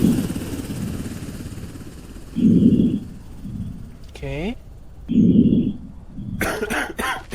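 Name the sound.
infected person coughing in video game Quarantine Zone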